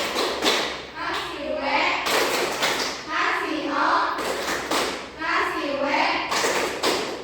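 A classroom group claps in a repeated rhythmic pattern while voices chant along in unison.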